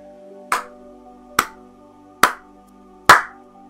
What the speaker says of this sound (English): Alright, so what happens when I clap then?